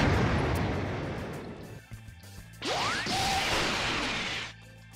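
Enemies fire guns in a video game, giving a few sharp whooshing shots and a swishing burst over a busy, noisy game soundscape, fairly loud and close.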